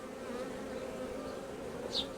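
A steady, dense hum of many honey bees buzzing nearby, continuous and even, with no voices.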